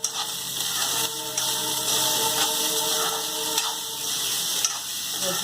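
Vegetarian fried rice stir-fried in a pan gives a steady, close hiss and sizzle with faint scraping and stirring, running continuously with no talk.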